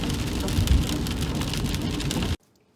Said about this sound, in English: 下着呢，噼里啪啦，噼里啪啦。